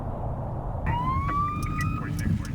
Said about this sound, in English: Lights flashing and sirens blaring.